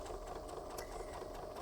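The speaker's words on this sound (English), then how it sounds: "you're gonna start up right here on the top and sew towards the point" Sewing machine running steadily while stitching a pieced quilt star point from top toward the tip, a continuous close mechanical whir with no talk.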